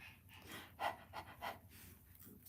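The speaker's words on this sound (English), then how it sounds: "I can hear her panting." A dog pants nearby in quick, rhythmic bursts of breathy huffs, fairly faint but distinct, with a few stronger breaths in the middle and no talk over it.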